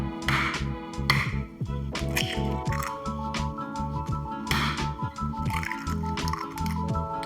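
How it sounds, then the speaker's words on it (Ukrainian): Minced meat mixture being mixed with eggs, salt and pepper, wet squishing and slapping sounds in a quick irregular rhythm, close, over a steady tonal background hum. "ретельно перемішуємо. Додаємо сіль та перець. Додаємо два яйця."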